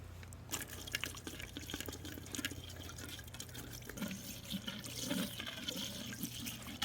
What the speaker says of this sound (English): Time to add the pool antifreeze.